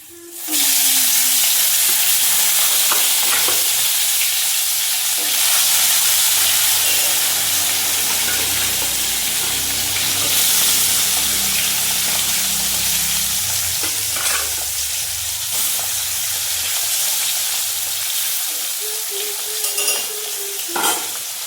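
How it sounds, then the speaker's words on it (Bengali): Fish turned over in a frying pan sizzles loudly and steadily in hot oil, close up and nearly constant, with occasional stirring knocks and no talking. "মাছ এক পাশ ভাজা হয়ে গেছে, আরেক পাশ উল্টে দিয়েছি।"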